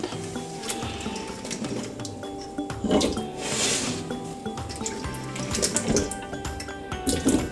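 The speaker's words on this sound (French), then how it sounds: "On verse de l'eau. J'ajoute les patates." Water poured into a cooking pot, then small potatoes dropped in for a stew, giving sloshing, splashing and clattering knocks against the pot at close range with no talking.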